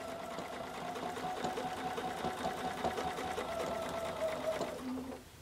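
A sewing machine runs steadily in free motion quilting, stitching a spiral design for about five seconds with an even, fast mechanical whir, close and fairly loud, then stops abruptly.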